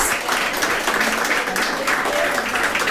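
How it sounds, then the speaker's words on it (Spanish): Steady, dense applause from an audience at a gerontology week opening panel, filling the whole stretch, with some voices mixed in underneath. "Le damos un gran aplauso a los"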